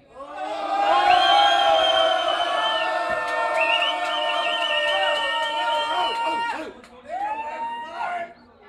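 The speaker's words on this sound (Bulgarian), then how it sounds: "Викайте за Джи." A crowd at a freestyle rap battle cheers and shouts loudly for several seconds, many voices yelling together in a sustained roar that breaks off, then rises again briefly.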